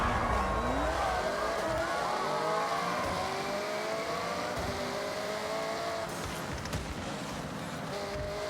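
A McLaren race car in Forza Motorsport 6 roars steadily, its engine pitch climbing and falling through gear changes for the whole stretch, loud and continuous with no talking.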